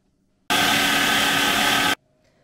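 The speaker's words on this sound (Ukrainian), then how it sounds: "Через 5 хвилин розмочений хліб пропущу через м'ясорубку." Electric meat grinder mincing milk-soaked stale white bread: a loud, steady motor whine that switches on abruptly, runs evenly for about a second and a half, then stops, with quiet room sound before and after.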